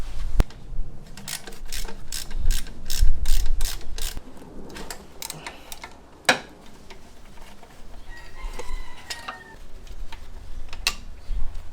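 A hand ratchet loosens a 12 millimeter pulley bolt during a lightweight pulley install. It gives a quick run of sharp, close clicks, then scattered quieter clunks and taps of tool work.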